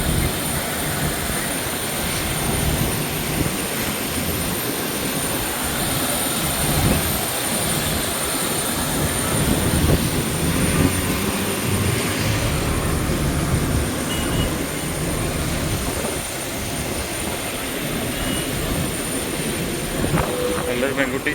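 An Air India Express jet's engines hum in a steady, broad roar throughout, with faint voices and cabin or terminal sounds mixed underneath.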